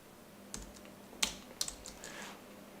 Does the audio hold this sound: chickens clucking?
no